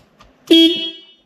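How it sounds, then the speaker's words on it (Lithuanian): One short, loud horn honk from a Smart car, close by, lasting about half a second, with quiet before and after. "Oi, čia signalas, ne ta."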